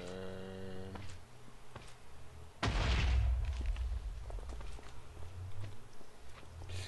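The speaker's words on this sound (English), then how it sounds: "I don't know what that explosion is." An explosion in modded Minecraft bursts out suddenly and loudly partway through, leaving a rumbling tail, after a stretch of quiet game ambience with a short tonal chime and light footstep-like taps.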